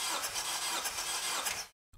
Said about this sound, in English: Have assistant crank engine 5 revolutions or puffs of the needle on gauge.